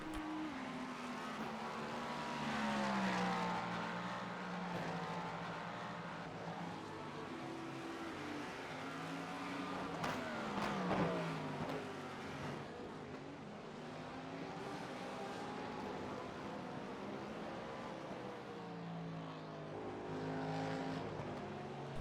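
Race car engines roar steadily in an IMSA racing video game as a yellow Cadillac, a BMW and a GT3 Porsche battle. The engine note rises and falls through gear changes and passes for the whole stretch.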